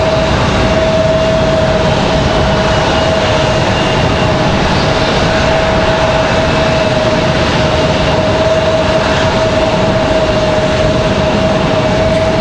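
At Raleigh Durham airport, a United airliner taxis down the hill. Its engines give a loud, steady broadband roar with a constant whine running through it.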